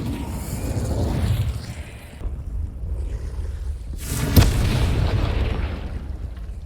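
A spell explosion from Hogwarts Legacy, played on PS5, bursts with a sharp boom midway through, over a continuous low rumble of game ambience and score.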